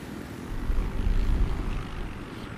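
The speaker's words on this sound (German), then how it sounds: "Du fliegst gerade in dem anderen Heli." Helicopter in the Battlefield 3 video game, a steady, loud rotor-and-engine rumble that swells slightly midway and holds for the whole stretch, with no talk over it.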